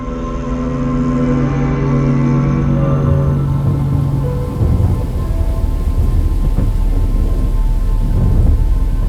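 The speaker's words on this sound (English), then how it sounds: "The storm is so awe-inspiring that I just gotta sit back and take it all in and enjoy it." A thunderstorm with steady heavy rain and a long, low rumble of thunder rolling through, loud and continuous for the whole stretch, with no voices.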